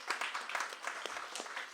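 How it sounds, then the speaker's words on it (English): Audience at a book reading claps in a steady, dense round of applause that keeps up across the whole stretch, moderately loud and close, with no speech over it. "Give them a round of applause"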